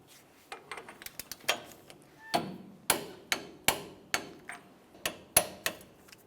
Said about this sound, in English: continue on by torquing each of the nuts to 70 foot-pounds